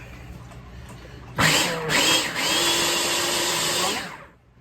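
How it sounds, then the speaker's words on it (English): An electric blender whirs into motion mixing homemade yum yum sauce, starting with a sharp jolt, dipping briefly, then running steadily at high speed for a few seconds before stopping, loud and close with no talking. "it's as simple as putting it in a blender like this"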